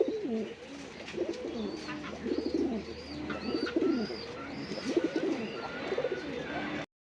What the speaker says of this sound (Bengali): আফসান বাগা গিরিজের কবুতর আছে